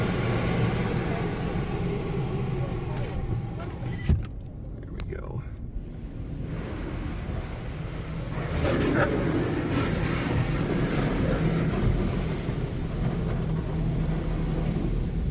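A newer Oasis Typhoon car wash with turbo nozzles runs in Fort Collins, Colorado: a steady loud rush of spraying water and machinery, heard from inside, with a brief drop in the middle, and people talk over it.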